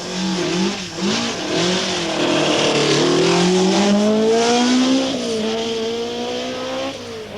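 Rally cars at speed on the 1982 Circuit of Ireland Rally stage at Ormeau Park, with an Escort among them: loud, close engine roar rising and falling through gear changes and sustained revving, filling the whole stretch with no talk.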